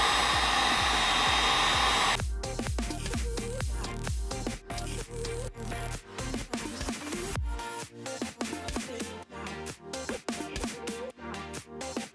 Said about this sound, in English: take my heat gun and heat up this entire part of the bow